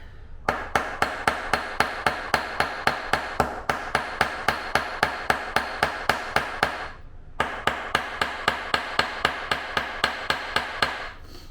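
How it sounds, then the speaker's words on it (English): Steady, sharp hammer strikes flatten clipped metal rivets on a leather tote bag, repeating at a fast even pace, loud and close, with two short pauses between runs. "I'll clip them off and then I'll hammer them flat."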